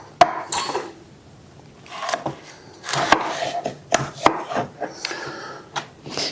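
A knife scores watermelon flesh inside the rind and a utensil scoops it out, giving a run of sharp cutting taps, wet scraping and soft knocks at close range with no talk.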